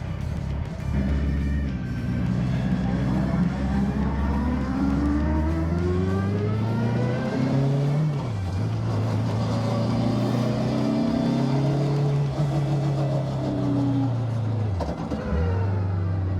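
Peugeot 106 fitted with a solid-mounted superbike engine driving, its harsh, buzzy engine note rising and falling through revs and gear changes, loud and close throughout.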